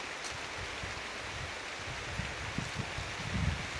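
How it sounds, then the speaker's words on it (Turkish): Heavy rain in Bartın Ulus, a dense, even hiss of falling water with scattered low thumps of drops landing nearby, steady and fairly faint throughout. "Çok fena yağmur başladı."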